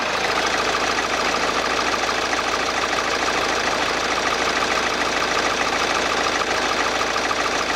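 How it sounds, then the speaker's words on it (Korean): A Kia K5 diesel engine idles steadily with a low, even rumble and faint knocking texture, constant and close with no other sounds. "엔진 소리 한번 들어보도록 하겠습니다"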